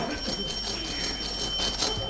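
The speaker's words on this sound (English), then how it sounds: "Ring the bell." A bell rings as a doorbell sound effect in an amateur radio play, a steady ringing tone held for about two seconds over faint background noise.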